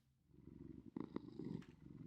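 A Minecraft cat purrs contentedly after being fed cod, a soft, steady, low rumble running continuously at close range, with a few slightly brighter pulses partway through.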